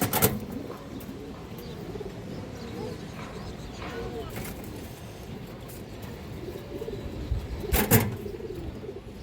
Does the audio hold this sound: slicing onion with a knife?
no